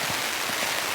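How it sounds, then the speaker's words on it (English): Heavy rain drums on a tent in a storm during a camping trip in New Zealand, a dense, loud, continuous hiss with no break. "All of a sudden, heavy rain is back."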